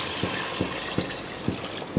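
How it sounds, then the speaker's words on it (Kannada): A mother pours water by hand from a bottle at home, producing close, rhythmic glugging bursts, about five in two seconds, over a faint trickle with no one speaking. "ಇವಾಗ ಇಲ್ಲಿ ಮಮ್ಮಿ ನೀರು ಹಾಕ್ತಾರ."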